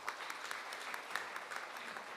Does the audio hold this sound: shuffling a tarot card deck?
no